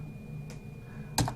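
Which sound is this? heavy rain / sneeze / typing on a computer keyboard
typing on a computer keyboard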